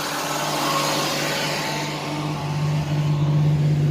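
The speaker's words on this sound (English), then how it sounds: "I just heard the compressor kick on" A 1990 Chevrolet Lumina Eurosport with a 3.1 V6 idles steadily up close, and partway through a new low tonal hum joins in as the AC compressor kicks on. The engine keeps running underneath without a break.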